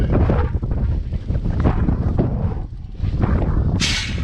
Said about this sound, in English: you might still be able to hear that wind